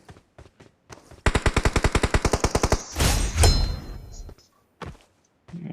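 Automatic gunfire in the mobile battle game BGMI rattles out in a fast, even burst of about a dozen rounds, then a heavier blast and a few scattered single shots, loud and close.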